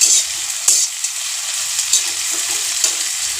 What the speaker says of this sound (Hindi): पियाजटी को बेसी भाजबेनी गोल्डन ब्राउन कलर है जाए भाजबे